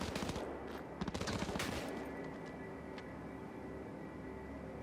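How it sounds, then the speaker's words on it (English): Enemy gunfire in Cyberpunk 2077, rapid automatic bursts crackling over the first two seconds, then fading into a quieter hum of game ambience. "Are they fucking shooting at me?"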